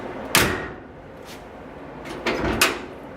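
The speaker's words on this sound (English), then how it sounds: "here's how the door works with the latch and the striker all in place" A car's rear-hinged suicide door swings shut with its latch catching the striker, giving one sharp clunk, a faint knock, then two more close latch snaps in a quiet workshop.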